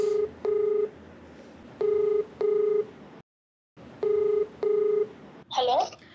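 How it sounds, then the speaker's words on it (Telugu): Touch-tone telephone keypad being dialed for a call in a Telugu television advice program, with clear repeated DTMF beeps in pairs, a brief silence, then more tones and a short burst of voice at the end. "నేను కాల్ చేస్తానండి."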